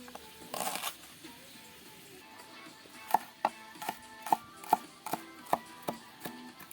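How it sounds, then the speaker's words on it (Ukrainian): A knife chops onion on a board for soup in a kazan: about eight crisp, evenly spaced taps close by, preceded by a brief rustle. "Далі шинкуємо лук"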